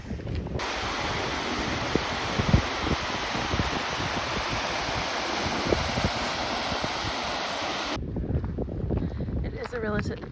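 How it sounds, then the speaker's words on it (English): A waterfall beside a trail in northern Iceland, a loud, constant broadband rush of falling water that cuts off abruptly near the end, leaving quieter outdoor sound. "Looks like we could just start out with a waterfall."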